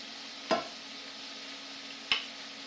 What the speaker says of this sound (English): I'm stirring my onions and mushrooms.